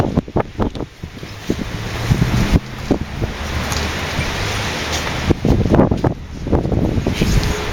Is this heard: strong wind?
yes